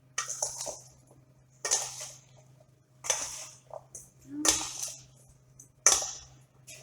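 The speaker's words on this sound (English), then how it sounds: "we'll stir it all up so it gets a little bit of a coating" Salmon pieces are stirred with a coating in a bowl, giving five separate bursts of scraping and clinking against the dish, spaced about a second apart, close and moderately loud with no talk.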